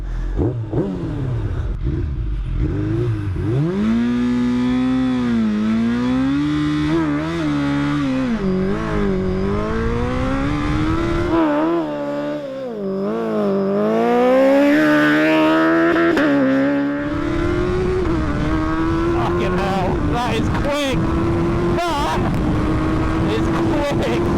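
Suzuki Hayabusa motorcycle making a speed run down an airfield runway, its engine loud and close, revving up through gears with rising, falling pitch sweeps and shift breaks over the whole stretch.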